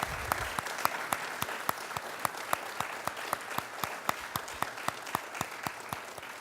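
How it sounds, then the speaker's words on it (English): Following a lecture by Professor Christopher Starr, applause fills the hall, with one nearby pair of hands clapping in a steady, evenly spaced rhythm above a soft spread of claps from the rest of the audience. "let us all give Professor Starr a round of applause for such a great lecture."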